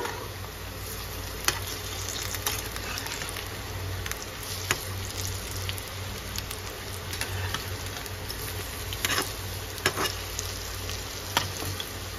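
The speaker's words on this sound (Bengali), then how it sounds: "লাল লাল করে আমি বড়াগুলোকে উল্টে পাল্টে ভেজে নেব" Fritters (bora) fry in hot oil, a steady close sizzle and crackle with scattered small ticks and pops throughout, no talking.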